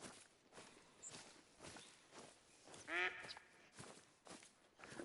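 Ducks quack briefly amid soft footsteps in The Hunter: Call of the Wild on PS5, one clear quacking burst in the middle over a quiet outdoor game ambience with faint rustling.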